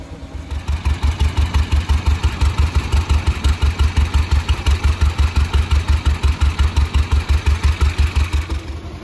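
Engine of a 1907 Darracq AX veteran car pulling away in first gear, starting quietly then settling into a loud, steady, low chugging pulse with rapid even firing beats throughout, no voices.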